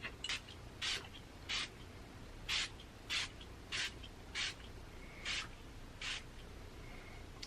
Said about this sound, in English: I'm gonna go ahead and spray this over everything, the whole area.